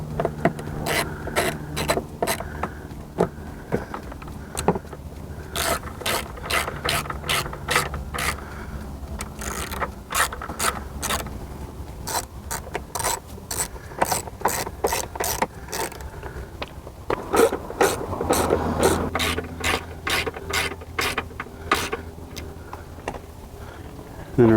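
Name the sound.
tightening bolts on Yamaha F300 outboard engine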